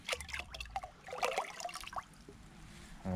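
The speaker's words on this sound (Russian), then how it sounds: "Зачерпываю бодягу" Homemade liquid fertilizer and water are scooped and poured into a bucket for watering tomatoes in a garden, with soft trickling and splashing that comes in uneven bursts, quiet and close.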